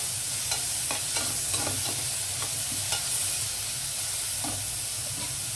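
Onions and vegetables fry in a pan for beans pulao, giving a steady close sizzle broken by scattered scraping taps of stirring, with no talking.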